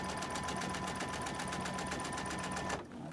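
A sewing machine runs at speed stitching quilt fabric, its rapid even needle rhythm steady and close, then stopping abruptly near the end.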